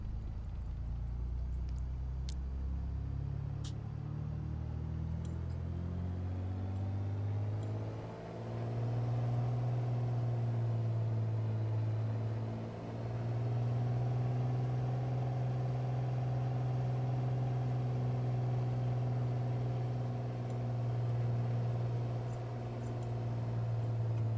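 Piper PA28R-201T Turbo Arrow piston engine in MSFS, taxiing with throttle up: a steady, loud low drone with stacked harmonics, dipping briefly twice and settling into a continuous hum, no talk.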